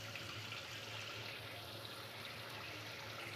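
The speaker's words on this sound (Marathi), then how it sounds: "हे असं शॉवरसारखं येतंय आणि असं फिरवलं ना की पाणी येतं" A kitchen tap with a rotating head runs in shower spray mode, giving a steady, even hiss of water that holds at one level throughout without pause.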